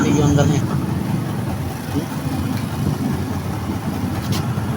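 A car engine idling steadily after starting, a suspected crankshaft fault, a continuous low rumble with a voice speaking over the start.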